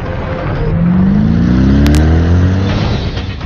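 An AMG 5.5 litre V8 biturbo M157 engine on a test bench revs up loudly, pitch climbing smoothly in a sustained roar before easing off, close and without talk.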